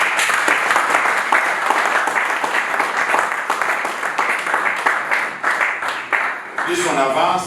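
Sustained applause from a church congregation during a French-language sermon, dense and close, with voices cheering and calling out over the clapping toward the end.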